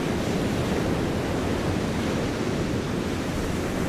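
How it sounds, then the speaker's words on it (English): Ocean waves wash onto a beach in a close, loud, continuous roar of surf that swells and eases only slightly, with no voices. "It's my beach."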